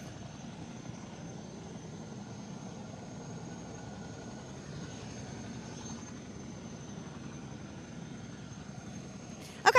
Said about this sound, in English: we're looking at the helicopter, the Columbia helicopter, which is going to be carrying the Dream Chaser spacecraft